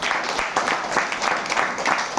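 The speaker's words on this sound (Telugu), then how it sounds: "ఒకసారి చప్పట్లు కొట్టండి" A church congregation claps during a Telugu Christian sermon, a dense, steady burst of applause from many hands filling the hall for a couple of seconds.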